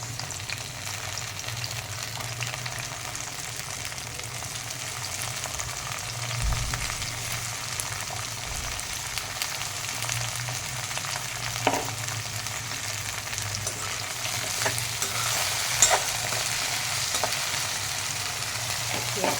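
Vegetables fry in a pan with lightly browned sautéed onions for a Kathiyawadi-style pulav, a continuous close sizzle with occasional stirring knocks and scrapes.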